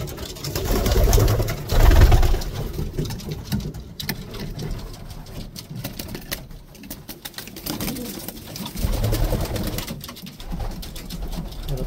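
Pigeons coo repeatedly in a loft during very cold weather, low soft calls rising and falling in bursts over steady background noise, with no talking.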